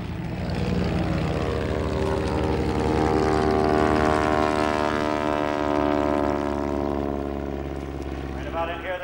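Propeller-driven aerobatic airplanes perform at an air show, making a loud, sustained engine drone that swells and fades as they fly past.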